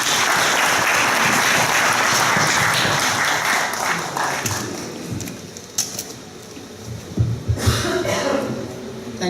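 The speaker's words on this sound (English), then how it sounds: "Please give him a huge round of applause." Loud, dense audience applause fills a hall at an EU referendum debate organised by a Nepali community group in the UK, gradually thinning into scattered claps, a few coughs and crowd murmur.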